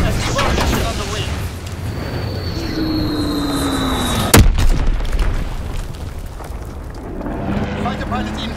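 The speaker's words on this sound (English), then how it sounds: "Blitzex bomb is on the way." Bomb airstrike explosions in the World War II video game Call of Duty: WWII: one sharp, loud blast lands mid-way amid a steady rumble and a falling aircraft-like whine, with game voice callouts around it.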